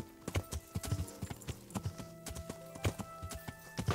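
Horse hooves clip-clopping at a steady walking rhythm in Kingdom Come: Deliverance, moving through a dark, narrow forest. The sound is fairly close and clear, with a soft ambient background and no talk.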